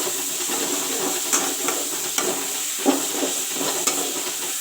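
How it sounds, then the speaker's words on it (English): Chopped tomatoes frying in a pan for a vegetarian pumpkin dish, a steady hissing sizzle with occasional pops and stirring clicks, close and continuous without talk. "I will let the tomatoes fry a bit."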